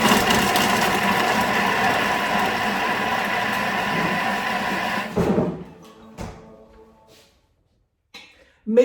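A Thermomix blending chopped onion for about five seconds, a loud dense whir that holds steady, then cuts off abruptly into near silence broken by a few faint clicks and knocks.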